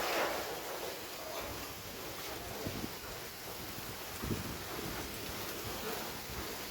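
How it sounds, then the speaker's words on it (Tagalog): Steady, broadband wind roar buffeting the microphone, loud and continuous with gusty swells and no clear talk. "Sobrang lakas ng hangin po."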